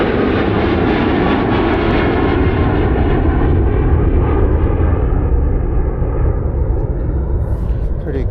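A loud, roaring jet airplane takes off and passes close overhead in Irvine/Newport, its broad engine rumble filling the whole stretch and slowly shifting in pitch as it climbs away.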